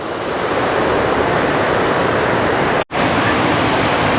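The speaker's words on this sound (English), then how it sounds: "There's some decent sized waves there." Ocean waves break steadily on the beach at Kuta, Bali, a loud continuous roar of surf with wind rushing across the microphone and one brief dropout near the end.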